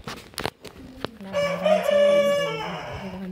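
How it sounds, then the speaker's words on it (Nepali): A rooster crows nearby with a full, drawn-out cock-a-doodle-doo, preceded by a few short clucks and knocks. "यहाँ हेर्नु होला, भाले"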